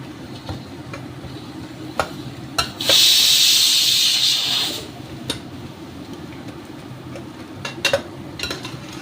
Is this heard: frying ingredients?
yes